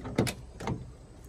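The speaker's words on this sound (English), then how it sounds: "Did you see how easy that door closed?" A car door on a 1971 Ford LTD convertible swings shut with a solid thump, followed by a second softer latch knock a half second later, close by with no talking.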